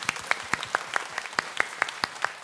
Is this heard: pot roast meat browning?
no